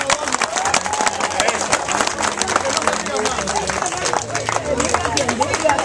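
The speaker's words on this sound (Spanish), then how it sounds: "Vamos al otro aplauso." Audience applause rolls on steadily at a community gathering with the National Police in Los Tres Brazos, a dense wash of many hands clapping with crowd voices and chatter mixed throughout.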